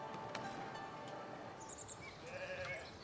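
Sheep bleat faintly over steady ambient noise on a sheep farm in the village-building game Foundation, a few short calls coming late and sounding distant.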